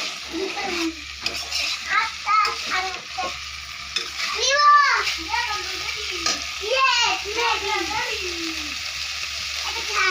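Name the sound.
frying cauliflower and potato with spices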